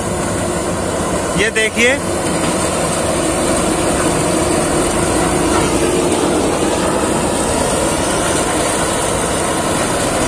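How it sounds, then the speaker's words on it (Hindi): A sugarcane harvesting machine cutting cane in a western Uttar Pradesh field makes a loud, steady mechanical roar with continuous engine drone and grinding, while someone talks briefly near the start. "गन्ना कटाई मशीन है, शुगर केन हार्वेस्टिंग मशीन।"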